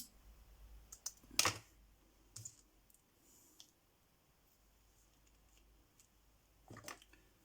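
Scissors snip a dried lily of the valley branch in a crafting setting, giving a few faint, brief crisp cuts separated by quiet pauses.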